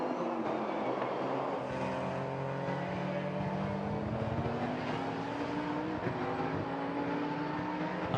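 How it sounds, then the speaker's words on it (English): The number 34 Honda touring car enters the pits during a Baltic Touring Car Championship race, its engine note rising steadily as it moves, heard faintly from some distance amid the wider track noise. "Number 34 Honda has entered the pits"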